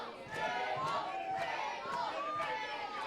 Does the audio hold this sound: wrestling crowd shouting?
yes